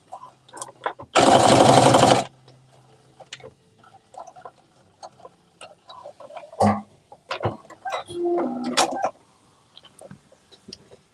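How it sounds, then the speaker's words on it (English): A sewing machine stitches across a sweatshirt seam in one loud, dense burst of about a second, followed by quieter handling clicks, fabric rustles and small knocks. "And you're going to stitch it across."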